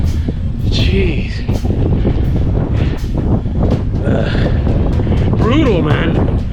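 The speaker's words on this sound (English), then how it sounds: "if you can hear that, I'm going against the wind again. Oh, the headwind, man." Strong headwind buffets the microphone during a bike ride, a loud continuous roar and rumble that fills the whole stretch, with heavy breathing or faint vocal sounds underneath.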